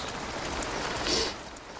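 Steady rain falls outdoors, a continuous close hiss of drops on surfaces that stays even throughout with a slight swell near the middle; no voices.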